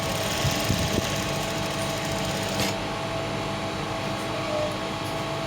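A sewing machine runs steadily while back-stitching stretchy fabric for a cargo skirt, giving a continuous close mechanical whir with a brief shift partway through.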